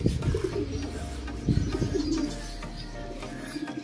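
A live racing pigeon coos in soft, low repeated calls close by, with some rustling and background murmur around it.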